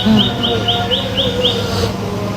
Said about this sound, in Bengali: পাখির ডাক দেখছো?